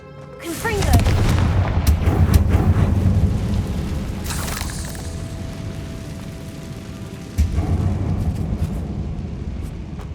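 Confringo blasting spell explosions in Hogwarts Legacy on PS5, a loud booming blast followed by rumbling debris, then a second heavy boom near the end, with a voice casting the spell.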